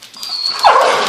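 A dog gives a single close, loud bark or yip, preceded by a high thin whine, with no voices in the moment.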